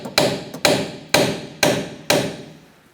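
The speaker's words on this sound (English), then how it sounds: "Now I got a cold chisel and a sledge hammer, and I'm going to try to split this open a little bit" A sledgehammer strikes a cold chisel against the steering knuckle of a 2012-2020 Chevrolet Sonic, five sharp metallic blows evenly spaced about half a second apart, each ringing briefly before decaying, with no talk.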